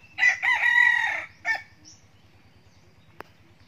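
Young roosters crowing while chasing hens during forest training: one close crow with a long strained middle section, a short second burst after it, then quiet ground ambience with a faint sharp click.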